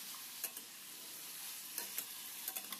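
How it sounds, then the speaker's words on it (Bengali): Potatoes, ridge gourd and pointed gourd fry in a pan with turmeric and salt, giving a steady close hiss and sizzle with a few soft stirring scrapes. "তার মধ্যে সবজি দিয়েছি, ঝিঙে আর পটল, আর হলুদ নুন দিয়ে ভালো করে কষিয়ে নিচ্ছি।"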